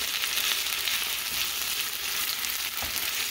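Ground beef fries with green chilies being stirred in, a dense continuous close sizzle with faint spoon scrapes beneath, no voices.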